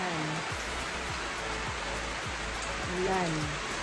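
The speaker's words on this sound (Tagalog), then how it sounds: "malakas pa ang ulan" Heavy rain pours down steadily in a broad, even hiss during a rainy-day downpour, with a faint low rhythmic thumping beneath it and no voices.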